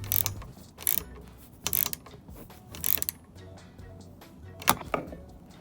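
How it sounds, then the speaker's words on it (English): Ratcheting wrench tightening a bolt on 80/20 aluminum cabinet framing in a Ford Transit van, several short bursts of bright clicking ratchet strokes separated by pauses, close up, fairly quiet, no talking. "I could access the bolt with a ratcheting wrench"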